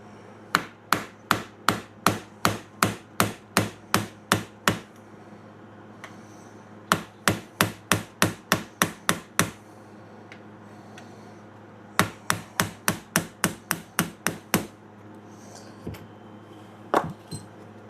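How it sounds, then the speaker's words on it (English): A hammer taps on wood in quick, evenly spaced bursts of sharp knocks, three to four runs of about ten strikes each, close and crisp against a quiet background. "I cannot seem to hold on to the hammer."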